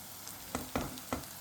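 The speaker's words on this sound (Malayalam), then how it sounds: "അപ്പം മസാലയുടെ പച്ചമണം മാറുന്നത് വരെ നന്നായി ഒന്ന് ഇളക്കി എടുക്കാം" Masala for squid roast being stirred in a frying pan, soft sizzling with three distinct scraping stirs of the spoon, close and fairly quiet with no talk.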